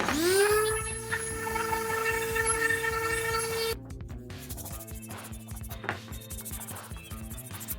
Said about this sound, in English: Now I will sand it using 120, 220, and 400 grit sandpaper.